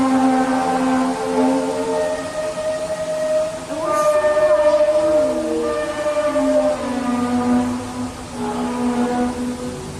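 Mysterious trumpet-like sound in the sky over Terrace, British Columbia, recorded in 2013: long, loud, layered brassy tones that hold steady and bend in groaning glides, sustained continuously throughout with no talking.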